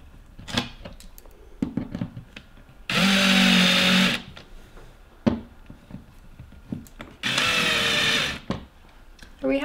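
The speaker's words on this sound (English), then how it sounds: "we're going to grab our drill here and make it snug" A power drill tightens screws on an outdoor security camera mount, running in two steady bursts of about a second each, close and loud, with brief knocks and handling sounds between them.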